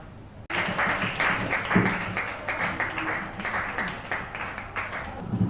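Applause breaks out suddenly from a small gallery audience at a storytelling workshop, a steady patter of many hands that continues evenly, with a few faint voices mixed in.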